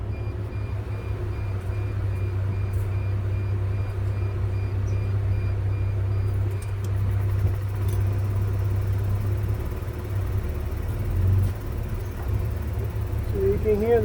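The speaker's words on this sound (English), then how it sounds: "You can hear the pump pumping through it." A 2004 Sprinter 2.7 L high pressure fuel pump runs with the ignition on and the engine off, a low steady hum and rumble that carries on without a break. Someone talks over it now and then.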